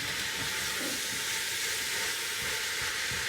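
Turkey mince and vegetables for a spaghetti bolognese frying in a pan while being stirred, a loud, constant hissing sizzle with faint scraping underneath.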